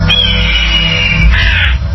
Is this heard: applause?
no